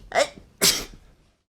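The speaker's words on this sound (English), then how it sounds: "I'm going to sneeze." A person sneezes twice in quick succession, the first a sharp burst and the second louder and fuller, both close and loud, trailing into a soft breath and silence.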